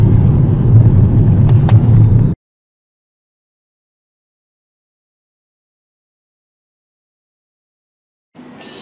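A car is heard from inside as it drives, with a loud, low road-and-engine rumble for about two seconds before cutting to silence and then briefly returning.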